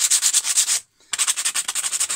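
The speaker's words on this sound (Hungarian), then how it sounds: "Egy kicsit azért rájavítunk, hogy smirglivel, hogy ne legyen éles semmiképp." Sandpaper rubs rhythmically over a sharp edge in quick, close back-and-forth strokes, with a brief pause before the strokes resume.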